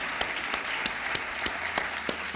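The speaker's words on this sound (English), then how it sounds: "I just want to give another round of applause to thank Amerant for their fantastic sponsorship" Lecture audience applauding a sponsor, a steady dense wash of many hands clapping with a few sharper claps standing out, sustained through the whole stretch and heard alone without talk.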